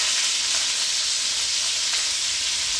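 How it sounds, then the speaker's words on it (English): Beef sears over medium-high heat in a pan for beef stroganoff, giving a loud, constant close-up sizzle and hiss with no pauses. "So basically we're just searing the meat right now."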